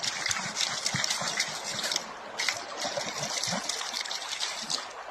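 A mountain river rushes over rocks among high peaks near a village, a continuous close splashing and gurgling flow with bright, busy spray that briefly eases before surging on.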